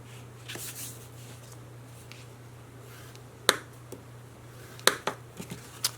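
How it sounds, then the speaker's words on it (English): Paper card bases are folded and burnished by hand, giving soft scraping and rubbing with a few sharp crisp creasing snaps toward the end, close and fairly quiet over a steady low hum. "I'm going to give them a fold, burnish it, give this one a fold,"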